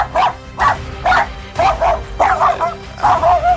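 Several dogs, Honeydew's sisters meeting the dog Boomer, bark and whimper close by in a steady run of about seven sharp yips, with no one talking.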